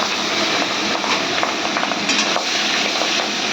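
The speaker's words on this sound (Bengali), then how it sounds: "এবারে তেলের মধ্যে মাছটা ঢেলে দিই।" Shingi fish, coated in salt and turmeric, sizzles and crackles loudly in hot oil, a dense continuous frying hiss with scattered pops, close and without talk.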